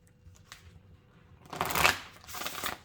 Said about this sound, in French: je vais utiliser les jeux que j'utilise habituellement pour les tirages pro